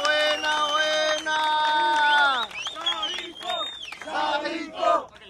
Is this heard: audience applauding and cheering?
yes